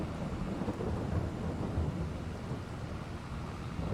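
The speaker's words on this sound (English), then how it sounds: "Here comes the rain." Steady rain with a low thunder rumble sweeps over an open hay field on a farm, a constant broad wash of sound, fairly faint and continuous with no voices.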